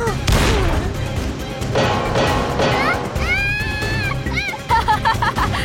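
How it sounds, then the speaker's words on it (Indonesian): Cartoon laser pistol shots fire in quick bursts, a mix of sharp blasts and zapping tones that sweep up and down, set amid busy action noise near a swimming pool. "Ia mengeluarkan pistol laser dan mengarahkannya ke Mike"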